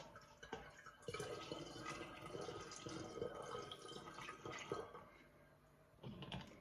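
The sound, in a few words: water pouring into a container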